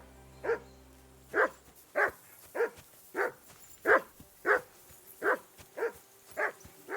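A dog barks about eleven times in the video game Kingdom Come Deliverance 2, steady single woofs spaced roughly half a second apart, fairly close and clear over a quiet background with no talking.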